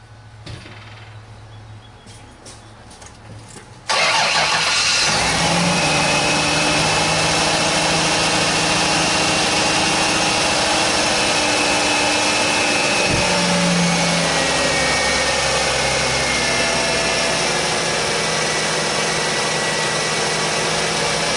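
A Ford Taurus 3.0L V6 OHV engine, just fitted with a new alternator, cranks and catches after a few seconds of quiet, then settles into a loud, steady idle with a low hum and a faint whine.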